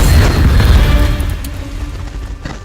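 Incendio fire spell blast cast in the Hogwarts Legacy video game, a loud booming burst that hits at once and then slowly decays into a rumbling tail.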